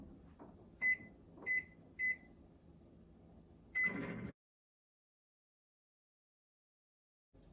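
Microwave oven being set to heat a mashed rice pouch for 90 seconds: four sharp keypad beeps over a low hum, then the hum cuts off into silence.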